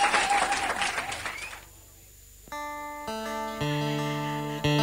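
A company audience applauds its chief accountant at a stage event with a singer. The clapping is loud for under two seconds, then fades and gives way to steady keyboard music notes.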